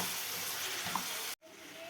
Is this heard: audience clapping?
no